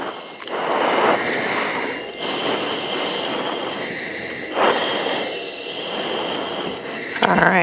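A T-6 aircraft engine drones loudly through landing touchdown and the climb-out, with rushing wind and swelling power surges. A voice briefly talks over it.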